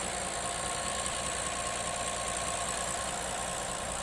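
Steady, smooth idle of a 2022 Rolls-Royce Cullinan SUV engine, a continuous even hum with a faint high whine, heard alone and quiet throughout.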